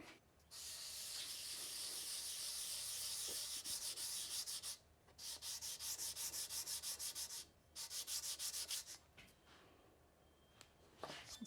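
A Porsche 356 intermediate plate is hand sanded with 400 grit paper, giving close, steady scratchy strokes in long bursts and then quick rhythmic back-and-forth passes with short pauses between them.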